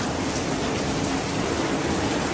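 Rain in the Philippines falls as a steady, even hiss of drops, constant and fairly close throughout, with no voices over it.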